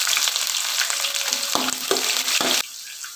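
Chopped onions go into hot oil in a pan with golden-browned chana dal for beans chitranna, a loud steady sizzle broken by a few scraping stirs, the hiss dropping off sharply near the end.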